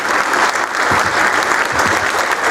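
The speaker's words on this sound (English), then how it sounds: "I see some of you clapping yourselves, and you deserve it." Lecture audience clapping in a hall, a loud, dense and steady round of applause from many people, close and sustained throughout with a few faint voices mixed in.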